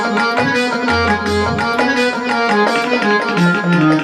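The harmonium-like organ and ethnic patch on a Yamaha MX49 plays melodic lines over a driving beat, with bass notes and percussion under the reedy sustained tone throughout.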